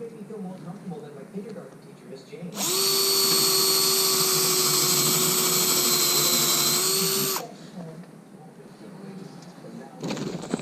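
A power drill drives 2-inch bevel-headed construction screws into a chicken door. It makes one loud, steady, close whine lasting about five seconds, with quieter background sounds and voices before and after.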